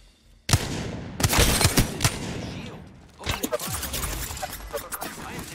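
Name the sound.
gunfire in the video game Apex Legends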